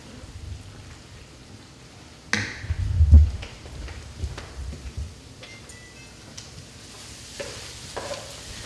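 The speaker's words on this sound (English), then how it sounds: "then we're going to add the ground chuck with the taco seasoning" Lean ground chuck mixed with taco seasoning hits a pan, giving a soft sizzle with a louder burst as it lands, then gentle stirring and faint crackling.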